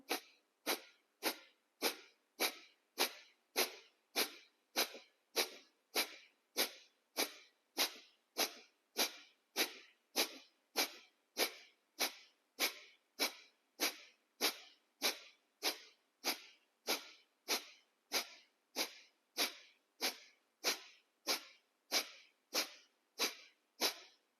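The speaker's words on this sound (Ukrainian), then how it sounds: "видих капалабхаті" Rapid, forceful kapalabhati exhalations through the nose, a steady train of sharp breath bursts at about two per second, close and loud, continuing without a pause and with no talking.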